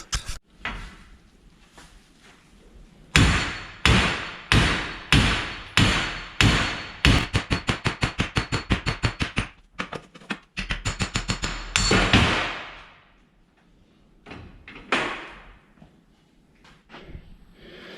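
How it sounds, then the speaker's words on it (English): A big hammer pounds a nut to drive the hub and bearing out of an R32 GTS-T, with dozens of loud, close metallic blows, first spaced, then fast and rapid, then a few slower final hits. "we're gonna hit that nut, and that should hopefully push the hub out this way"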